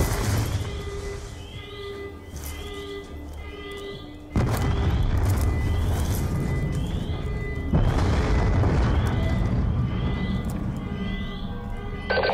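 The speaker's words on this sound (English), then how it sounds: "We're monitoring multiple explosions across the facility." Deep booming explosions in Call of Duty: Black Ops II erupt twice, each jolting into a sustained rumble over a background of ringing, repeating tones.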